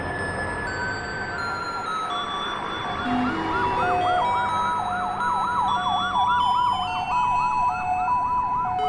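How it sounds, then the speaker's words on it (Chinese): An ambulance siren wails in a steady rising-and-falling warble, loud and close, over a faint background hum with no talking. "救护车咱闪较边啊！"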